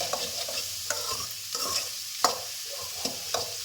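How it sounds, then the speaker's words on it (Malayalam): Chopped onions sizzle softly in a pan while being sautéed for tuna pasta, with a spatula scraping and stirring in irregular strokes, close and fairly quiet. "നന്നായിട്ട് വഴറ്റണം"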